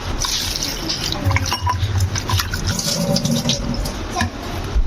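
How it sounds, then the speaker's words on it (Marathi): Water splashes and sloshes continuously as drumsticks (moringa pods) are rinsed by hand, with scattered drips and clatter throughout. "आता शेंगामध्ये पाणी टाकून आपण धुवून घेणार आहोत"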